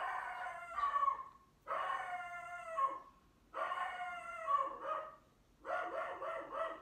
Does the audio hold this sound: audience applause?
no